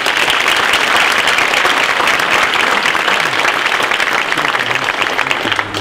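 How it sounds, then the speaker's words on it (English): An audience claps loudly and steadily at a leadership studies school's graduation ceremony, dense applause holding at full strength throughout. "Another round of applause for this group"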